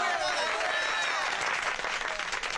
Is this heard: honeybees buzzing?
no